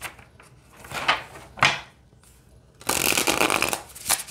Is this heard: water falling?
no